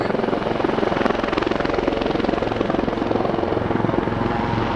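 A Royal Navy Wildcat helicopter flies in an airshow display with a loud, steady thrumming of rotor and turbine that fills the whole stretch without a break.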